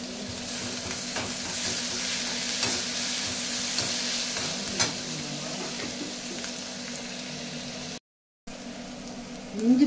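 Ginger and garlic sautéing with onions in a pan, a steady moderate sizzle with occasional stirring scrapes, broken by a brief silent gap near the end.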